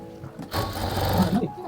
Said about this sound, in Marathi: मध्ये एक शिलाई आपण मारून घेऊया